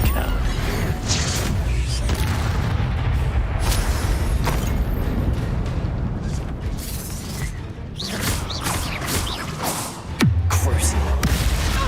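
Confringo blasting spell explosions in Hogwarts Legacy, with repeated booming thuds and crackling bursts over a busy mechanical game soundscape and a heavy low impact near the end, with a voice talking intermittently underneath.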